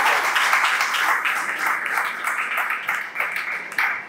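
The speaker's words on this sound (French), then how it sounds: "On peut applaudir également." Steady applause from a seated audience at a youth employability panel discussion, welcoming a territory coordinator; dense continuous clapping holds for about four seconds with a slight swell near the end and faint voices underneath.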